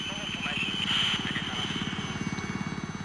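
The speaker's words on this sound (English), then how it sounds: "As the first chopper comes into land" A military helicopter comes in to land troops in the bush during the 1977 Rhodesian Bush War, its rotor throbbing in a steady rapid beat that stays loud and continuous throughout.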